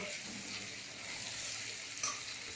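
Pointed gourd (potol), salted, fries in a pan for a potol chingri dish, making a soft, steady sizzle that holds throughout at fairly low volume, with one small clink near the end.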